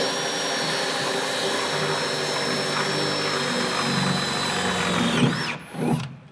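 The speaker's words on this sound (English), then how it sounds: "let's just drill a few holes" A power drill whirs steadily for about five seconds, boring holes into a trailer roof, loud and close with a high-pitched whine, then winds down and gives a short final burst.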